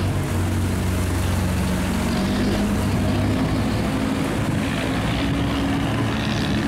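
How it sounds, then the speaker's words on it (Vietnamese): A coconut boat passes on a crowded canal, its engine a loud, steady low drone that shifts slightly as the boat goes by, with water and ambient noise around it. "Tiếp tục là ghe dừa nha."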